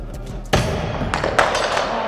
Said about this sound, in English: Each person's gonna now get 6 hi-ya axe tosses instead of 5.